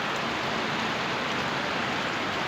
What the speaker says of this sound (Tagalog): Lakas ng ulan talaga.